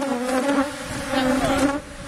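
Honeybees buzzing close by during a beehive inspection, a dense steady droning hum with shifting pitch as individual bees pass near.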